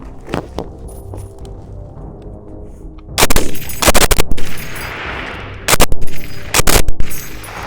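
A Kalashnikov rifle is handled and loaded, giving sharp metallic clacks and clangs in several loud bursts, separated by quieter stretches of faint handling noise.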